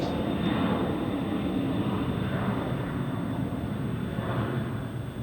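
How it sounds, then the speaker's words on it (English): A very light jet roars through its takeoff roll at SFO, a steady loud engine rush that holds evenly throughout, heard from a spotting position without talk. "Light, very light jet, quick rotation, short flight over to LAX."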